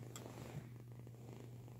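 Pet cat purring softly up close, a low steady continuous rumble with no pauses, quiet and alone.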